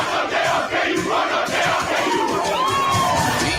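A large stadium crowd chanting and cheering for the Kansas Jayhawks at a football game, a dense roar of voices with rising shouts, loud and continuous, a whistling tone near the end.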